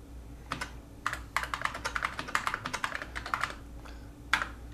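Fingers type on a 1981 Interlisp-D workstation keyboard, a quick uneven run of close key clicks over a low steady machine hum.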